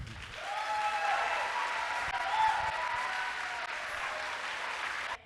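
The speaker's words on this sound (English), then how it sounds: "give her a huge round of applause" Sustained audience applause from a crowd at a vegan conference talk, steady and fairly loud for about five seconds before cutting off abruptly.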